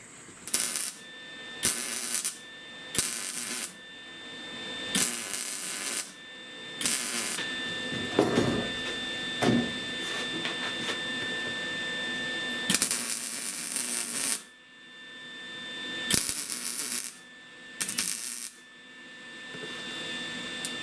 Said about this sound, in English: Back to welding.